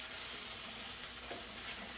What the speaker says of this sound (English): I'm gonna give my cabbage a flip here